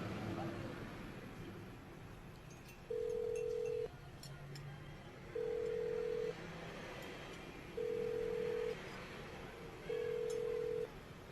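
A telephone call rings out unanswered, with four evenly spaced ringback tones, each about a second long, repeating over a quiet background hiss.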